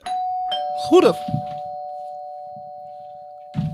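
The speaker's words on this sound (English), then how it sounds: "When you hear the doorbell." A doorbell rings with a clear sustained electronic tone that holds steadily for several seconds while someone briefly speaks over it during a casual DJ talk show.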